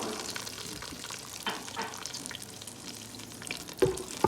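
Milk hits a hot pan while making Matanjen, a sweet rice dish, a close, busy frying sizzle with stirring scrapes and a couple of sharp clatters near the end.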